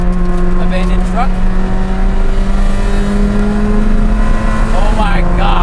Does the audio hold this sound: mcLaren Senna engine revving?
yes